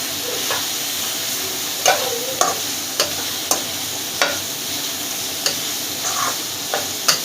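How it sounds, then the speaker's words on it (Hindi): Onion, green chili and tomato are stirred in a hot pan for a karela dish, a steady sizzling hiss punctuated by regular sharp spoon knocks against the pan roughly every half second, close and loud, no speech. "ये डालने के बाद हम अच्छे से मिक्स कर देंगे।"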